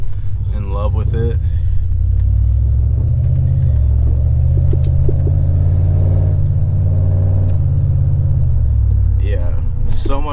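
A Chevrolet Trailblazer SS with a new rear suspension cruises down the road, its steady engine and road rumble droning loudly and continuously throughout, with voices talking briefly over it near the start and end.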